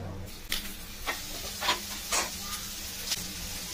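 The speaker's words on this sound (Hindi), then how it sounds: "ये प्याज डाल दिए तलने के लिए।" Onions fry in a little oil in a pan for egg bhurji, making a quiet steady sizzle and hiss with several short stirring scrapes and clatters spread across the clip.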